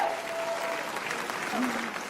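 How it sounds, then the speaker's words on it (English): Stand-up comedy audience breaking into a round of applause, dense, steady clapping filling the full short stretch with a few voices calling out among it. "Round of applause."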